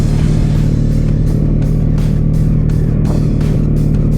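A 2023 Can-Am Outlander 700 ATV engine runs steadily on a trail, a loud continuous low drone with faint periodic surges, no talking.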